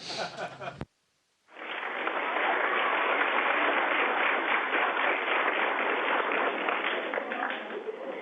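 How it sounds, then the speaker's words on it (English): A brief voice, then a short pause, then loud, sustained applause from a large audience, full and even, carrying on to the end. "How about a big round of applause for Professor Fossum?"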